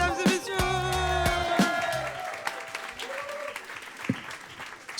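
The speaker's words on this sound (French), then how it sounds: "On les applaudit" A studio audience applauds warmly at a French entertainment show, a dense patter of clapping with a few sharper claps near the front, fairly even throughout.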